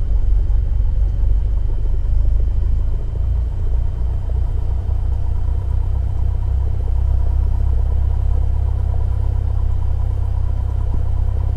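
A small aircraft engine in Microsoft Flight Simulator runs steadily at 1000 RPM during the pre-takeoff run-up, giving a continuous low rumbling drone at constant loudness with no talk.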